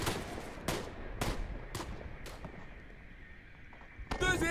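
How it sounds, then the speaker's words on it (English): Artillery fire support in WWI game Tannenberg, a series of four or five evenly spaced heavy blasts, each fading out, followed by a brief rising burst near the end. "I'm dropping fire support on the top of that hill"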